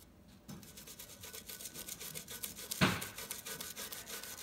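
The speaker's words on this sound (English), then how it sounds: "Continue brushing around here." A brush scrubs degreaser-softened grime off a KitchenAid stand mixer in short, quiet, rhythmic strokes, with one sharper scrape near the end.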